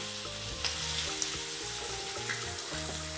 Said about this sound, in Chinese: 就这样给它煎熟就可以了